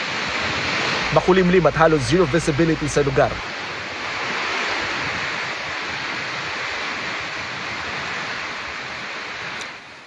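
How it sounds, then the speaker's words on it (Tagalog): Strong wind with rain in Santa Ana, Cagayan, a steady roaring rush of wind and rain with low visibility, loud and constant, with a reporter speaking briefly near the start. "Sa bayan ng Santa Ana, kakambal ng ulan ng lakas ng hangin."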